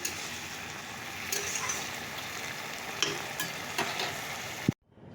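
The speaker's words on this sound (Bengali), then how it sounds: "ছোটো মাছ দিয়ে একটু চটচটি করে নেব সবজিটা বসিয়ে দিলাম" Vegetables and small fish frying in a pan for a Bengali fish chorchori, a steady close sizzle with a few sharp clinks of a spatula stirring, ending abruptly in quiet.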